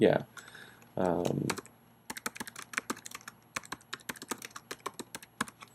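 Someone speaks briefly, then a run of light, irregular keyboard clicks as someone types steadily on a computer keyboard, nearby and moderately quiet.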